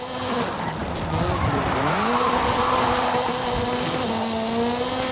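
Ken Block's Hooligan Gymkhana 10 Ford Focus RS RX rally car, 2-litre turbocharged with a front-mounted engine and all-wheel drive, driven in Forza Horizon 5: a loud, continuous engine note rising and falling in pitch, with tire squeal and skidding as it slides.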